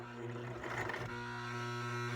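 Sewing machine running a straight stitch through cloth diaper elastic, a steady mechanical hum with a brief busier burst near the middle, close and continuous throughout.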